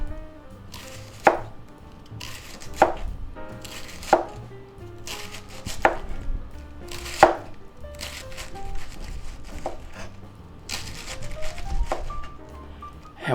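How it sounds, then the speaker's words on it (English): A knife slices through a baked cabbage pie in a series of firm, distinct cuts roughly every second or two, each thud striking a board up close with soft crumbly rustling between strokes. "we can start slicing it up"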